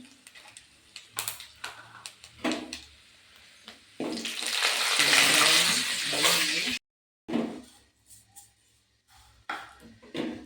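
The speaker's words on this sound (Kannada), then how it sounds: "ಈಗ ಸಾಸಿವೆ ಇದ್ದೀವಿ ಈರುಳ್ಳಿ ಮತ್ತು ಕರ್ಬೇವು ಮೆಣಸಿಕಾಯಿ ಹಾಕ್ತಾಯಿದ್ದೀವಿ" Mustard seeds, onion, curry leaves and chilli hit hot oil, giving a loud, rising sizzle burst that stops abruptly. Scattered taps and soft clatter come before and after it.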